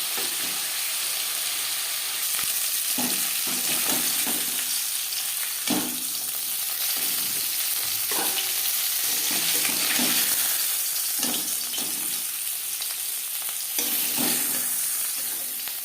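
A fish head fries in a pan of oil, a continuous close sizzle broken by occasional scraping knocks as the pieces are turned.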